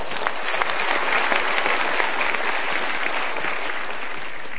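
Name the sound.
audience applause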